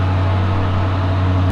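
Car engines running inside a Rolls-Royce showroom, a loud, steady low drone that holds unbroken throughout, with no speech.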